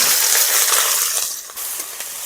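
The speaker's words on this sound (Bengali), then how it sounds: "ফোড়ন তো ভালো করে ভাজা হয়ে গেছে, এবার দিয়ে দেবো কুচনো কাঁচা লঙ্কা আর পেঁয়াজ।" Chopped green chilli and onion dropped into hot oil, a loud close burst of sizzling that starts at full strength and then eases slightly, continuing without any voices.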